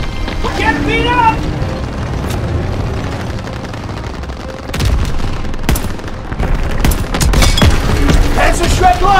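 Tank shelling and rifle fire in a Call of Duty WWII battle against a German Panzer tank, heavy booms and sharp gunshot bursts that grow denser and louder toward the end, with shouted voices in the first seconds.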